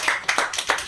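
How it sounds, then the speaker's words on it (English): A few sharp, distinct claps in a loose rhythm, about five in one second, from a small audience at a volunteering event, fairly close and alone without voices. "Let's clap."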